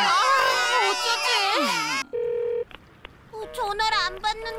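Loud crying gives way to a run of electronic dialing tones and a brief ring tone, followed by short beeps and more crying voices.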